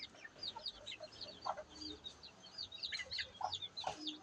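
A brooding hen on a rural farm gives soft, repeated clucks among the busy high peeping of several chicks, close and fairly faint, with no voices over it.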